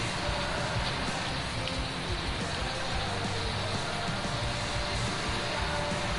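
Steady rain pouring down in Farming Simulator 19, a dense unbroken hiss of drops on a surface, loud and constant throughout with no voices.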